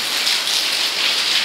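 Heavy rain pours in a dense, even hiss close by, steady and loud throughout with no voices.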